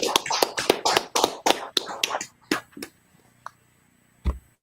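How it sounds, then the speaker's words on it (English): Hands clap near and loud in a quick run of sharp claps, then a few sparse, isolated claps at a gathering for a Tuesday class. "Clap it up, Akim. Clap it up."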